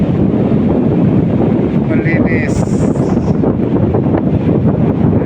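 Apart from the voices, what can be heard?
strong wind at the sea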